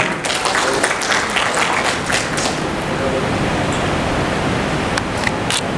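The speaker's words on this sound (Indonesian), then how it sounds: "Tepuk tangan kita untuk Pak Jokowi." A large audience at a Lake Toba tourism discussion forum applauds for President Jokowi, a continuous wash of clapping that holds evenly throughout at moderate loudness.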